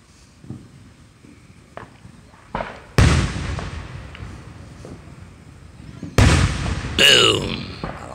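Fourth of July fireworks booming outdoors: two loud bursts followed by crackling and a whistling rocket, over quieter thumps, with people talking nearby.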